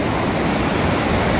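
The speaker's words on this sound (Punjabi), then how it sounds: "ਪਾਣੀ ਤਾਂ ਤੁਹਾਨੂੰ ਪਤਾ ਇੱਥੇ ਚੱਲਦਾ ਹੀ ਰਹਿੰਦਾ ਹੈ ਸਰ ਸਰ ਕਰਦੇ" River water rushing past at Manikaran Sahib gurdwara near Manali on a cold night, a loud, continuous roar close by with no pauses or voices.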